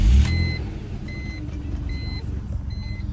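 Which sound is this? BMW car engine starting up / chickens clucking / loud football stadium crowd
BMW car engine starting up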